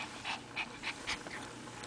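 A dog pants close by in quick, rhythmic breathy huffs, about five or six in under two seconds, over a low background hiss.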